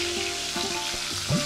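Curry leaves and spices crackle and sizzle in hot oil, a steady frying hiss with a few sharper pops, close and alone with no talking.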